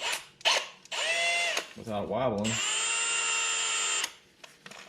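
A power drill spins up on a brake part for an 1988 Camaro Z28 fitted with Wilwood brakes, whining loudly and steadily across a couple of bursts, with someone talking briefly at the start.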